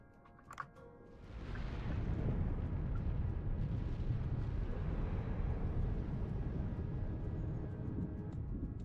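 Deep rumbling vibrations rise from a brief knock into a sustained, heavy roar that stays loud and steady, heard underwater in the Dave the Diver video game.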